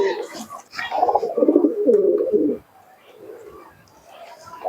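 Giribaz pigeons coo nearby in a loft in Murshidabad, a few soft rolling coos close to the microphone, the loudest in the first half of the clip, followed by quieter murmuring.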